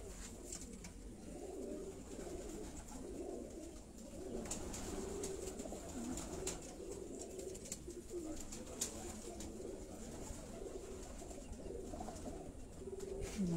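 Pigeons coo softly in repeated low, rolling calls at a home loft, with faint background noise throughout.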